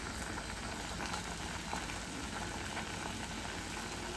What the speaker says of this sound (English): instead of boiling from the middle, it's boiling from the sides